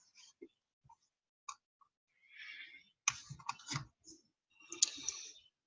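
A computer mouse clicks a desktop icon to open MetaTrader 4 on Windows, sounding as a series of sharp, close, dry clicks spaced apart in an otherwise quiet room.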